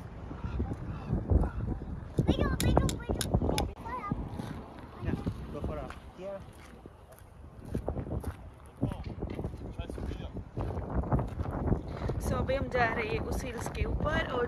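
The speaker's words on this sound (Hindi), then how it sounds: "बहुत तेज़ी से हवा चल रही है" Strong wind gusts on Twin Peaks hill in San Francisco buffet the microphone in a steady, rumbling roar, with people talking nearby throughout.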